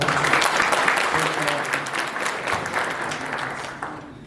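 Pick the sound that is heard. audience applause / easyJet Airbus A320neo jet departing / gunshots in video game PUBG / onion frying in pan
audience applause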